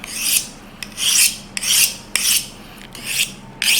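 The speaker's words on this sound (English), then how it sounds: "You can hear the grating sound, which shows the diamonds at work." A micro-diamond embedded grater rasping in repeated strokes, about six loud harsh scraping passes in a steady rhythm with brief pauses between, close up and without speech.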